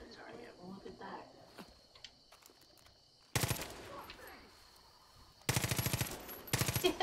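Rapid automatic gunfire bursts from shooting at a target in Far Cry 5, loud and close, arriving in two or three sharp volleys after quieter outdoor game ambience with a voice talking.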